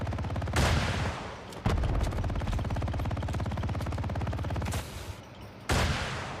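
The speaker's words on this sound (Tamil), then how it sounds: "கவர் ஃபயர் பண்ணுப்பா அவனுக்கு." Rapid automatic gunfire in the Call of Duty Mobile video game, sustained loud bursts with brief pauses between volleys.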